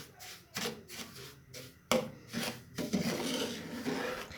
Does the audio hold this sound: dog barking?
no